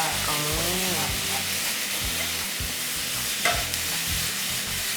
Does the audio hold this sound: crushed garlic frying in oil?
yes